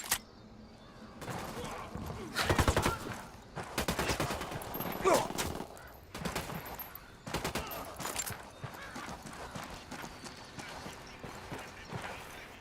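Gunfire rings out in the tactical shooter game Tom Clancy's Ghost Recon Wildlands, with loud bursts and volleys of shots separated by brief lulls and scattered clatter.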